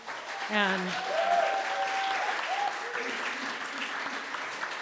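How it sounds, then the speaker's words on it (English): Audience at a poetry, music and film event gives a round of applause, a steady moderate clapping with a voice speaking over it at the start. "Big round of applause again for Bre"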